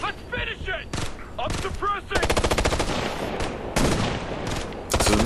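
Assault rifle fire in the Ghost Recon Future Soldier video game, loud rapid automatic bursts separated by short gaps, with some game voice chatter mixed in.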